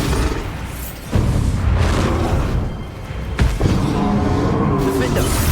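A booming spell explosion in a wizarding action game set at Hogwarts, with a heavy blast followed by another sharp burst over a loud rumbling battle background.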